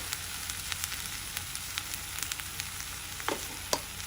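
Tomato and mint chutney ingredients frying in a pan, a steady close sizzle with a few louder crackles and pops near the end, no voices.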